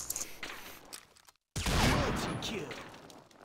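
Sniper fire from an ASW338LM rifle in the online shooter Combat Arms: after a brief dead silence, a loud, sharp burst erupts and rolls on as a sustained roar, with fainter game noise and scattered clatter before it.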